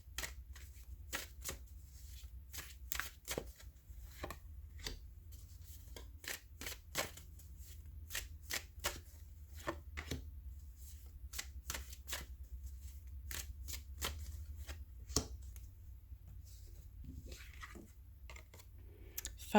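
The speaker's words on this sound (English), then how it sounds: "let's shuffle and pull some tarot cards" Tarot cards shuffled by hand in a quiet room, a steady run of soft, crisp riffles and flicks with brief pauses, close and fairly faint.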